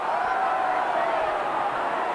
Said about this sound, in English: Crowd looking for the penalty